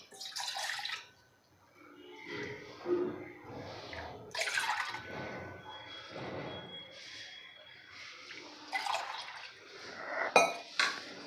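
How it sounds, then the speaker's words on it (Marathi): Water poured from a bowl into a pot on a gas stove, heard as irregular splashing bursts mixed with metal clinks and knocks of vessels, close and moderately quiet, with bits of talk in between. "इथे मी गॅसवर पातेलं ठेवलेलं आहे आणि त्यामध्ये आपल्याला 1 वाटी भरड्यासाठी 3 वाटी पाणी घालायचं आहे।"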